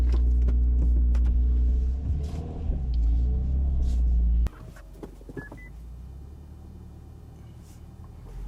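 Low, heavy engine rumble from a 2024 Subaru WRX TR idling in a driveway, loud and steady for several seconds before cutting to a quieter in-cabin hum with faint clicks as the car pulls out.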